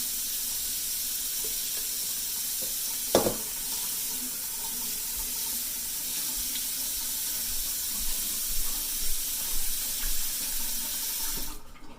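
Water streams steadily into a pot of two cups of jasmine rice meant for a rice cooker, a continuous flow lasting about twelve seconds, broken by one brief clunk near the start.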